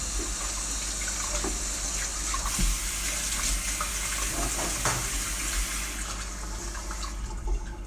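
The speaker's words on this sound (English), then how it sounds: "Put some more water in there." Tap water runs steadily into a cooking vessel at a kitchen sink during home cooking, a continuous splashing hiss with small clinks and shifts in the flow, and no talking.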